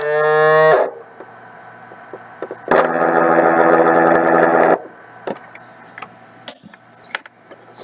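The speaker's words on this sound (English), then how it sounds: "The second noise you heard was a high rev type noise. That was the stacker motor," Stacker motor revving high with its gear spinning freely, a loud, steady whirring hum lasting about two seconds, framed by a brief tone and scattered clicks.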